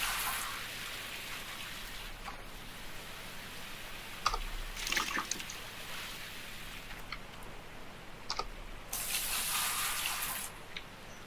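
Water from buckets poured through a hog pan in the Gold Rush mining game, a steady rushing, splashing flow that swells and eases, with a louder gush near the end.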